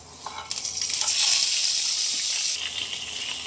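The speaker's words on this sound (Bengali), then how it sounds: "এগুলো সব আগে আমি ভেজে নেব। তো এখানে ভাজার জন্য কড়াই বসিয়েছি, তেলও দিয়ে দিয়েছি" Chillies, ginger, cashews and tomato frying in hot oil in a wok: a loud, bright sizzle swells up close, holds steady for about a second and a half, then settles to a lighter crackle.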